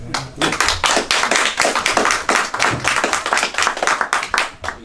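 Rhythmic clapping from a church presbytery assembly approving a motion, loud and close, with distinct hand claps in a quick steady pattern for about five seconds and no talking.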